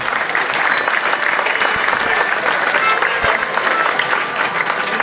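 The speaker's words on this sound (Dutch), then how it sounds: "Applaus voor Robert." Sustained audience applause at a diploma ceremony fills the room with dense, steady clapping for several seconds, loud and close.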